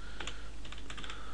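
Code being typed on a computer keyboard, with quiet, quick clusters of key clicks and short pauses between bursts, alone and fairly faint.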